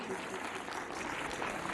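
Applause at a school event honoring the institution's president: a steady, dense crowd clapping at moderate, even loudness throughout, with speech faintly mixed in.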